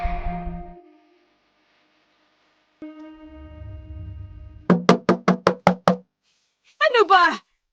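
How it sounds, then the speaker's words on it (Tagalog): Someone pounds on a house door in a rapid burst of about seven loud, sharp knocks, with other sounds before and a brief burst after. "Dahan-dahan naman sa pagkatok!"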